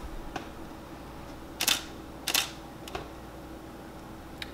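A camera shutter fires while photographing a subject, giving two loud, crisp mechanical clicks in close succession with a few fainter clicks around them over a quiet background.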